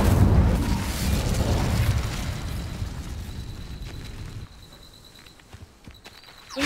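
A fiery Incendio spell bursts in Hogwarts Legacy during the North Ford Bog Merlin Trials, a loud roaring whoosh up front that rumbles on for a few seconds and then fades to a quieter tail with small pops.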